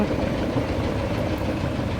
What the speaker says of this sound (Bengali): একটা ইঞ্জিন নৌকা গেল